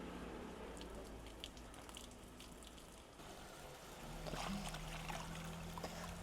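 Lentils are rinsed in water in a home kitchen, with quiet trickling and swishing that swells near the end. The sound is faint and close, against a low background hum.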